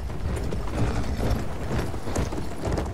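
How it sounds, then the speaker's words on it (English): Rhythmic clip-clop of horse hooves at a steady trot in Battlefield 1, mixed with a continuous low rumble and some mechanical rattling. "spurring his horse towards the fortress so he can ascertain the condition of his men."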